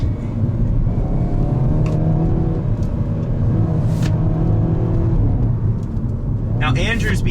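A 2021 Hyundai Veloster N with a dual-clutch transmission driving hard through turns, its engine droning steadily from inside the cabin with gear-change dips, while a voice talks over it.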